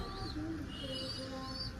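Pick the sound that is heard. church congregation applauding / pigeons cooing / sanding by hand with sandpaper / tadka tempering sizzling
pigeons cooing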